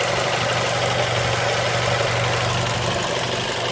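A Ford Fiesta ST150 engine with a worn, stretched timing chain, running at a loud, continuous idle with a low rumble and rattling texture, close up, until it cuts off abruptly at the end.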